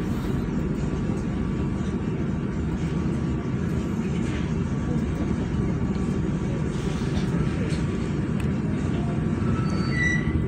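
KA Banyubiru economy class train departing Solo Balapan station for Semarang at dusk, a steady rumbling rail noise heard from inside a carriage, with faint higher squeals and tones near the end.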